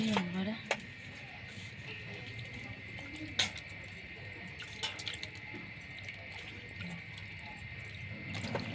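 Snake gourd is washed under a running kitchen tap, a steady close stream of water with occasional splashes and knocks, while a person talks over it.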